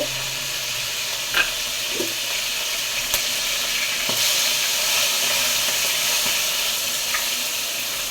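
Two pieces of dried fish drop into hot oil in a pan for karuvadu thokku and fry with a steady, bright hissing sizzle. A few faint clicks and stirring sounds break the sizzle now and then, close up, with no talking.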